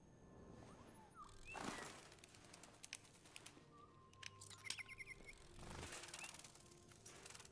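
Synthetic android bird chirping in a Detroit: Become Human scene, a few short high chirps and warbles rising over a faint, busy ambient bed with scattered soft clicks and rustles, quiet and somewhat distant.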